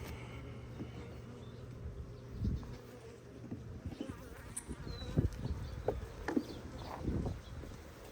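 Honeybees buzz around an open beehive during a spring inspection, a close, wavering drone with scattered louder passes and light knocks of frames.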